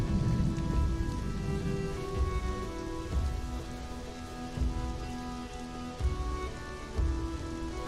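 Steady rain pours in the Conan Exiles game world, a dense continuous hiss under a low tonal music bed, close and even throughout with no talking.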